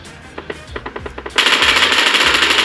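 Automatic gunfire in the mobile shooter PUBG New State, played with mouse and keyboard: a few spaced shots, then a rapid, steady burst of loud rounds sustained to the end, with no talking.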